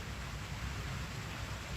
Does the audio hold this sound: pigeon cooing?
no